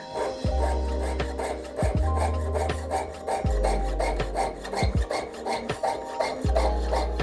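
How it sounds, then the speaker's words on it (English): A half-inch piece cut off a silver cuff strip with a hand saw or file, giving repeated rasping strokes in a steady back-and-forth rhythm, close and fairly loud, with no talking. "let's go ahead and cut off the 1/2 inch and put that to the side"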